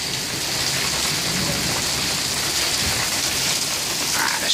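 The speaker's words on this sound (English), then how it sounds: "Big ass raindrops." Heavy rain pelts down in large, hard drops while strong gusting wind roars steadily around it, a dense continuous wash of noise with no voices.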